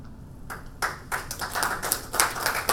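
A small group claps, scattered hand claps building into a brief round of applause.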